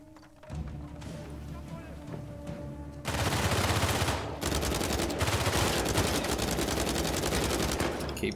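Sustained gunfire in Uncharted 4, starting with scattered shots over a low hum and building into dense, loud automatic bursts that continue steadily to the end.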